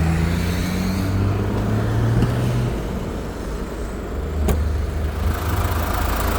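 A Ford 2-litre bi-turbo four-cylinder diesel car engine idles with a steady, grainy clatter and low rumble, close by, with a faint whine fading early on.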